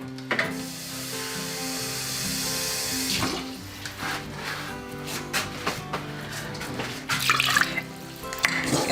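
Tap water runs steadily into a pan of sugar being made into syrup for a Hawaiian Sunshine cake, a close splashing, hissing flow with a few clinks and shifts in the stream as it fills.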